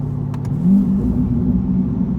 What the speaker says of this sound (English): It's got a nicer sound to the downshifts than the stock exhaust does.